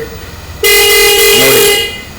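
A homemade motorcycle's horn sounds once, a loud, steady, close blast lasting over a second before cutting off, over a faint idling hum.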